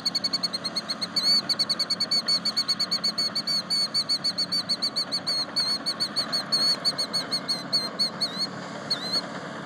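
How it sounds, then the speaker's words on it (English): Rapid wingbeats flutter continuously in the foreground while high, repeated bird calls chirp over them throughout, steady and close, with no voices. "That's just a bird with a really pointy beak."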